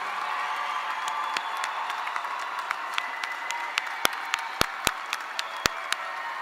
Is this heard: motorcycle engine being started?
no